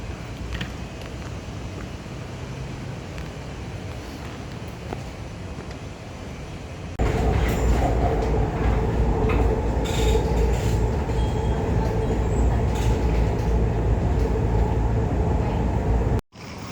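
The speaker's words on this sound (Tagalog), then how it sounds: "kakalabas lang po natin ng MRT, ng tren" A Taipei MRT metro train runs loudly and steadily, its rumble and wheel noise jumping up in level around seven seconds and holding until a sudden drop at the very end.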